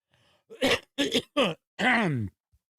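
Someone clears their throat in a few short, rough bursts followed by a longer grunting clearance, close and alone in a quiet room.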